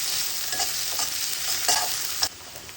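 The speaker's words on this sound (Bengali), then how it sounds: "এখন এগুলো ভেজে নেব।" Dried chili, onion, garlic and ginger fry in hot oil, a continuous bright sizzle with a few spatula scrapes and clinks against the pan, close and steady, no voices.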